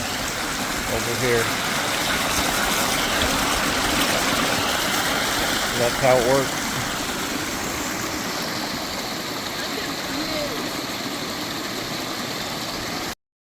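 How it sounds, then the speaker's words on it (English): Steady rushing flow of stream water spilling out of a coanda screen intake feeding a cabin, a broad constant wash of noise running the whole time beneath a voice. "you can see over on this side the amount of water that's coming out"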